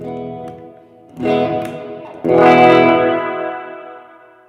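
Guitar amp with its reverb turned up to 10: two strummed chords ring out through heavy, distorted reverb, each swelling loudly and then decaying into a long wash, with no talking.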